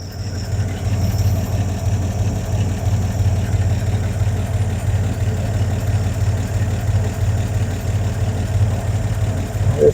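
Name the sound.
1952 Chevy six-cylinder 235 engine idling with a misfire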